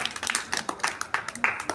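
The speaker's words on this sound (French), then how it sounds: "On l'applaudit" A class applauds a student in short, sharp clapping bursts that are loud and close, with a quick uneven rhythm across a couple of seconds.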